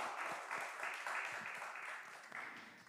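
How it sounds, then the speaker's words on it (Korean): A church congregation applauds during a Sunday worship service, a steady, fairly distant patter of many hands clapping together that tapers off slightly toward the end. "우리 하나님 앞에 영광의 박수를 올려드립시다."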